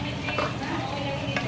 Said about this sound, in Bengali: পেঁয়াজ দেওয়া হয়ে গেছে। দিয়ে একটু হালকা করে ভেজে নেব।